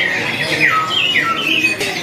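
A beranjangan parpa, a small finch-type songbird, calling from a cage at a bird kiosk, with thin, high squawking chirps and short slurred notes over a busy background hum.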